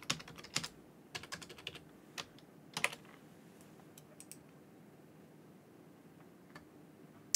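Someone types a password on a computer keyboard, scattered quiet key taps in short bursts with pauses, close and alone.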